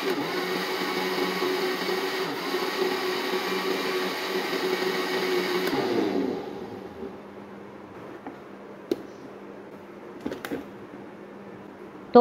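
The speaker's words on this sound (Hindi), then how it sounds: "अब इसे इतनी देर तक ब्लेंड करना है कि जमी हुई आइसक्रीम बिल्कुल स्मूथ बैटर की शक्ल इख्तियार कर ले" A kitchen blender whirs steadily and loudly for about six seconds as it purées frozen mango ice cream into a smooth batter, then switches off and leaves a quiet room with a few faint clicks.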